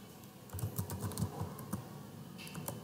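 Steady computer keyboard typing while entering an Oracle database query, a run of close, crisp key clicks with brief pauses and a few louder strokes near the end.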